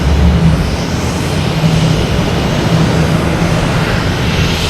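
Aircraft in New York Police Department special livery approaching to land at Boston Logan, a steady, broad engine roar with low rumble holding evenly throughout, moderately loud and unbroken.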